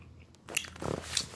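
Close, soft crunching and chewing as someone bites into a Raindrops candy hot dog, a couple of brief moist bites with no talking.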